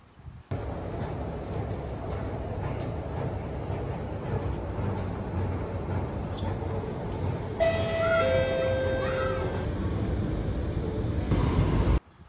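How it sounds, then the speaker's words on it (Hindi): Singapore MRT metro train ride with a steady loud rumble and rolling rail noise throughout, a rising whine and chime-like tones near the end, no voices. "मैंने कहा शॉर्ट ले लेते हैं, मेट्रो ले लेते हैं, आसान पड़ जाएगा"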